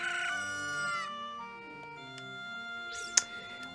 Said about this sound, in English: He hasn't stopped crowing.